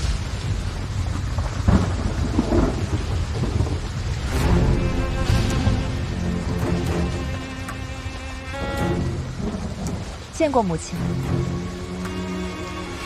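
Heavy rain pours steadily with rumbles of thunder during a scene from a Chinese period costume drama, a dense, constant wash of downpour running beneath voices talking throughout.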